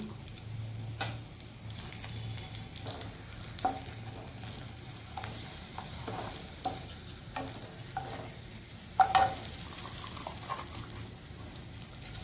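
Chilies crackle softly in oil, a quiet sizzle with occasional sharp pops and ticks, heard up close.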